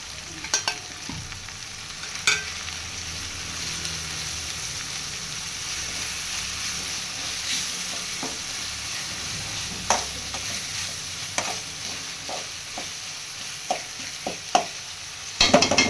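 Tomatoes sautéing in a pan with ginger garlic paste for a crab gravy, a steady soft sizzle with intermittent scrapes and clinks of a stirring spoon, close and unbroken by talk.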